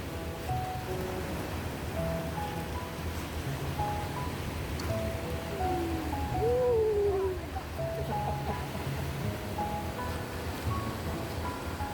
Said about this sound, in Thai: คลื่นแรงมากเลยเพื่อนๆ